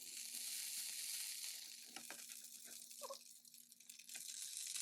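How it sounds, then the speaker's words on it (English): Shredded potato hash browns fry in vegetable oil in a pan over medium heat, giving a soft, continuous sizzle with occasional light scraping or stirring sounds, close and fairly quiet. "Transfer the shredded potato to the pan. Cook one side for 5 minutes before flipping."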